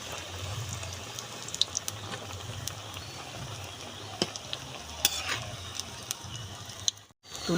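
Flattened onion pakoras fry in oil with a soft, continuous bubbling sizzle dotted by small pops and clicks, fairly faint and steady before dropping away near the end.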